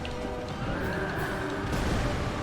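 A horse in the video game Dark Souls II lets out a drawn-out whinny over a dense layer of game noise, fairly loud and sustained for about two seconds.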